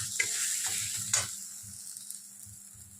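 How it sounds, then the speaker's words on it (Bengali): Mashed taro (mankochu) paste frying in a kadai with a black cumin tempering, giving a steady close sizzle with a few soft stirring scrapes and brief spatters, no voices. "দেখুন খানিকক্ষণ ভেজে নিলাম, একটু ভাজা হয়ে গেলে এবার আমি নামিয়ে দিচ্ছি"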